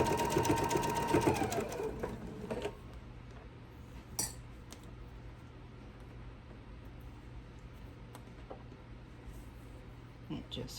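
A sewing machine stitching an apron runs fast for about two seconds and then stops. Faint clinks and soft handling noises follow over a low steady hum.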